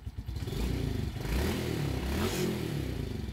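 Motorcycle engine on a bike with a full-wave regulator revved up a little from idle, close and loud, with a steady pulsing rumble that rises and holds.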